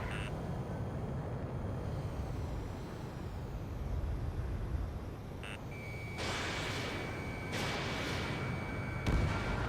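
Gunfire from a fighter jet in the air-combat game Ace Combat 7 sounds over a steady engine roar, with sharp bursts of cannon fire breaking in during the later seconds.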